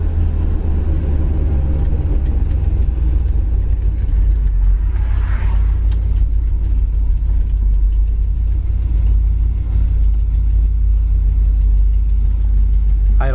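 A 1969 Chevrolet Nova SS idling, a deep steady rumble holding even and loud throughout, heard from inside the car with a few faint bumps and clicks over the engine drone.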